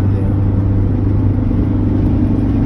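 A car driving along, heard from inside as a loud steady low engine and road rumble that continues without a break.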